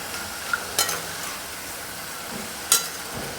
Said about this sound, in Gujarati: ખમણી સેજ આ રીતે હલાવશો ને એટલે ખમણીમાં રહેલા બધા જ ગાંઠિયા તેલમાં પડી જશે.